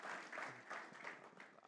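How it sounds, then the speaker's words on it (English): A church congregation gives a short burst of applause, a soft and distant patter of many hands clapping. "So can we just give them a round of applause?"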